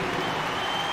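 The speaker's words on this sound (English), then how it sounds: "Give them a round of applause for your kid Clippers." Steady crowd applause fills a basketball arena in the NBA 2K video game for the Clippers D-League team, a dense, even roar of clapping throughout.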